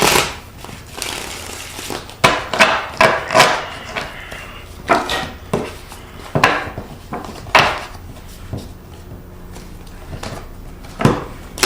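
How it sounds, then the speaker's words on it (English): Tarot cards being shuffled close up, a series of quick papery riffles and taps repeating in uneven bursts, with no voices. "I shuffled the cards, but I'm going to shuffle them a couple more times for you."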